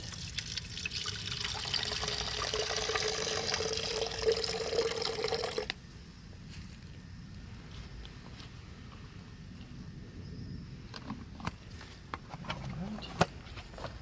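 Water pours steadily into a Mix N Spray container for liquid organic fertilizer, a steady rush that stops abruptly midway, followed by quiet handling clicks and light knocks.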